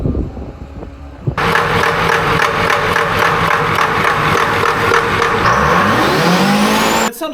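A Detroit Diesel 453 engine, electronically controlled and turbocharged, runs on a dyno at high RPM, roaring loudly and steadily with rising whine before cutting off abruptly at the end.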